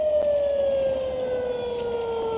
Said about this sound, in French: c'est la voiture de devant qui est en train de klaxonner